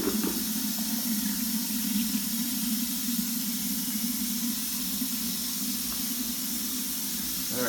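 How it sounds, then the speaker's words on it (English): Water pours in a steady, rushing hiss into a homebrew batch of wort that is being topped up toward five gallons. The flow continues close and unbroken throughout. "I will have to add a little bit more water"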